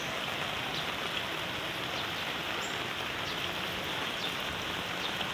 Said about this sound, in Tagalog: Kagabi pa ang ulan dito